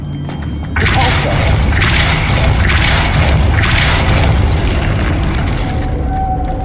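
A Depulso spell is cast in Hogwarts Legacy. A loud booming blast starts after a short pause, followed by a series of heavy, rhythmic thudding pulses over a dense rumble that fades near the end.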